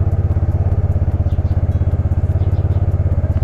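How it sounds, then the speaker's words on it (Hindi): TVS Ntorq Race XP scooter engine idling steadily after a cold start, its exhaust pipe having come off, giving a loud, close, rapid even putter with a thumping low pulse throughout. "तगड़ा साउंड कर रहा भाई इंजन इसका।"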